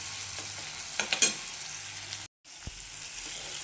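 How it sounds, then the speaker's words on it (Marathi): Chopped tomatoes stir-fry in a pan for a cauliflower curry, a soft continuous sizzle broken by a few scraping stirs of a spoon and a brief silent gap, heard close with no talk. "आता हे टमाटर आपल्याला थोडंसं नरम करायचं आहे, म्हणजे सॉफ्ट होईपर्यंत आपल्याला हे परतायचं आहे."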